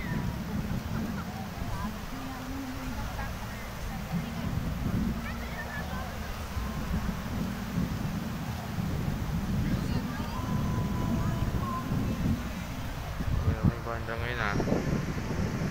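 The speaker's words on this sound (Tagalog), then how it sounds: "Lakas kasi ng hangin dito." Steady strong wind on a Boracay beach in the Philippines roars into the microphone throughout, with a low continuous rumble and no clear voices.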